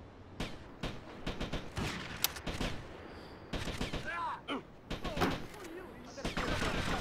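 Gunfire in GTA Liberty City Stories: scattered sharp shots and quick bursts crack out at irregular intervals over several seconds, with voices talking in between.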